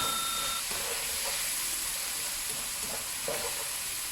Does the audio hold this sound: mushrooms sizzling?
yes